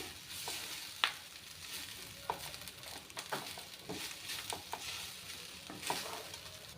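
Beetroot rice gently stirred in a pan with a spoon, a soft steady scraping and faint sizzle with a few sharper clinks of utensil on metal, close by and alone.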